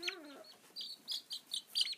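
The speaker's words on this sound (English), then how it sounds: "This is the other hen." A hen gives a rising squawk, then a series of soft, repeated clucks at a steady pace, fairly close and alone.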